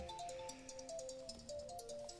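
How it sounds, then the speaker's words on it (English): A phone ringtone plays a repeating electronic melody of steady tonal notes for the whole stretch, heard alone and fairly loud, with no talking over it. "I've got a phone call, but I'm not sure who it is."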